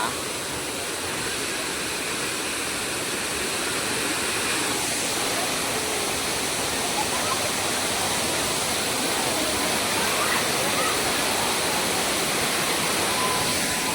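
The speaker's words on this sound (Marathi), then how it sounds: "हे बघा एकदम मस्त वॉटरफॉल सावडाव" The Savdav waterfall in Konkan, Maharashtra, roars steadily throughout, a dense, unbroken rush of water that stays loud and constant with no pauses.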